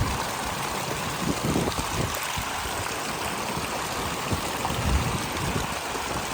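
Water flows steadily through a stream in a rock park in Israel, a continuous close rushing and babbling with no voices.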